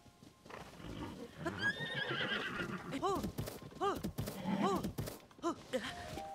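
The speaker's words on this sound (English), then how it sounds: "That's a tough horse." A horse in Zelda: Tears of the Kingdom on the Great Plateau whinnies and neighs repeatedly in loud, rising-and-falling bursts, with clip-clopping hooves underneath and some game sounds mixed in.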